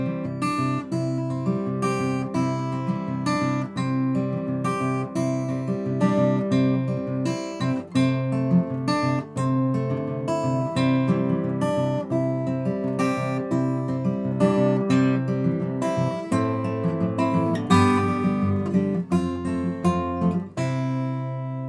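Homemade acoustic guitar with a spruce top, ebony bridge and fretboard, Indian rosewood back and sides and a mahogany neck, played alone in a steady stream of close, bright chords and plucked notes.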